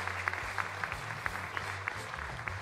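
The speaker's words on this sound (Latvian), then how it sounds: "Paldies! Jā, ar aplausiem." A small crowd applauds a sports team with a steady patter of clapping, faint and somewhat distant, over a low humming background.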